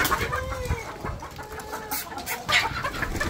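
Black Australorp hens on a poultry farm cluck and murmur close by in a short burst of steady, busy fowl chatter, with no talk over it.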